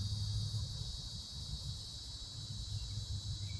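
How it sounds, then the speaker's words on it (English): Steady high-pitched insect drone, like cicadas or crickets, buzzing continuously throughout over a low rumbling background, with no voices. "Man, that one's buzzing, buzzing, buzzing, and he stopped."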